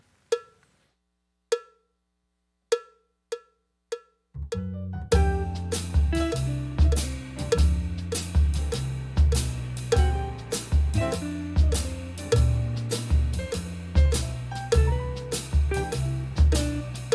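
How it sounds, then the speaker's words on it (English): Shuffle drum groove in triplet feel at 120 BPM, opening with a few sparse cowbell-like clicks before a full musical backing loop enters, the drums locking into a steady, loud, even rhythm. "And now let's hear that with the musical loop."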